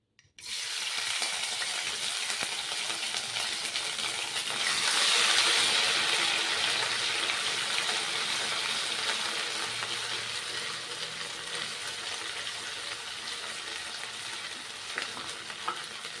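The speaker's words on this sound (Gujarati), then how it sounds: "તો હવે આપણે ખીચડીનો વઘાર કરી લેશું" Loud, continuous sizzling of ginger and green chillies dropped into hot oil, swelling briefly after a few seconds and then settling into a steady crackle without speech.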